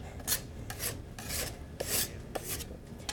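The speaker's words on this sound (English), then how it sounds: "bench scraper is great getting it all together" A bench scraper gathers fresh pasta dough on a work surface in repeated short scraping strokes, close and fairly quiet, with no talking.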